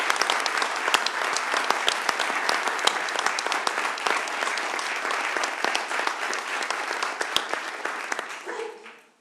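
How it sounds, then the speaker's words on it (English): A large crowd applauds steadily for several seconds, dense clapping at a constant level that fades out abruptly at the end. "But everyone received an applause."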